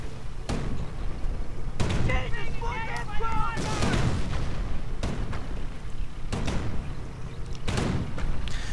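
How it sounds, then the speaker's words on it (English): Mortar fire in a real-time strategy video game lands as a series of repeated booming blasts and crackling impacts under a commentator's voice. "Further mortar fire"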